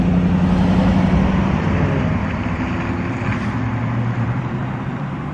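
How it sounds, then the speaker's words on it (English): Steady road traffic with cars passing in a continuous loud rumble and wind-like roar, heard close by with no talking. "Yeah, this is a good traffic area."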